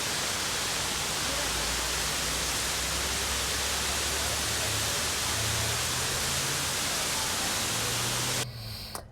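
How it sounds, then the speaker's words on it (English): Rushing water at a lookout in Mount Rainier National Park, a steady broadband roar heard close and loud, continuing alone for several seconds before cutting off abruptly. "I'm going to be quiet for a few seconds so we can listen to the water and just enjoy it."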